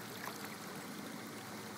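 Floodwater from Hurricane Irene rushes down a road in Puerto Rico like a river, a continuous broadband roar of flowing water heard up close with no pauses.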